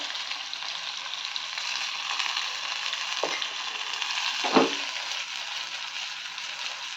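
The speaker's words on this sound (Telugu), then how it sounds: "సో పోపు వేగిపోయింది ఈ పోపు పప్పులో వేసేసుకుందాం" Steady, loud sizzling of a tempering of asafoetida and green chilies frying in hot oil, with a couple of brief knocks partway through.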